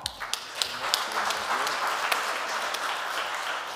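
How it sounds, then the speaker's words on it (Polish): A gala audience applauds at a business awards ceremony, steady moderately distant clapping with a few sharper individual claps standing out, continuing throughout. "Wielkie brawa!"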